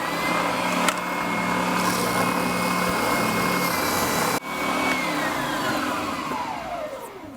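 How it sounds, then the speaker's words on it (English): A drum sander, switched to a smaller drum, grinds steadily into the tight corner of a guitar body, a loud continuous whirring hum that drops briefly near the middle and winds down in falling pitch at the end. "We'll switch over to the smaller drum so we can get that corner, that tight corner cut up in there."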